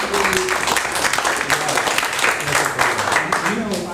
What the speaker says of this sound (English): I want to give you a hand clap for doing this